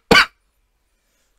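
One short, sharp cough, close and loud, followed by silence.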